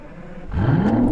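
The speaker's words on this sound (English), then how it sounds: "we're greeted by the sound of that V12" An Aston Martin Rapide S V12 starts up: a quiet cabin gives way to a sudden starter catch and the engine's swelling, rising rev as it fires into a loud, steady idle.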